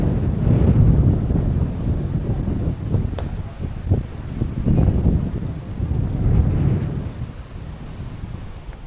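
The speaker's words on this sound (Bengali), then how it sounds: "দেখতে পাচ্ছেন পুরো জায়গা মূলত সবুজে ঘেরা এবং বলতে পারেন প্রশান্তির বাতাস বইছে" Outdoor wind gusting steadily across an open green park, a broad continuous rumble swelling and easing in waves with a few faint knocks and no talking.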